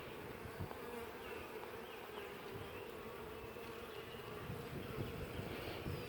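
Continuous dense buzzing of bees inside a newly split hive holding few bees, a steady close drone with no talking.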